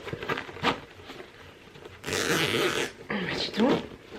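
A clothing zipper on a newly bought garment is tugged in short rasping pulls, catching on the seam edges, with bursts of scraping close by between softer rustling and fabric handling.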